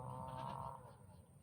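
Young baby goats bleat on a farm field, a faint, wavering cry at a distance followed by quiet.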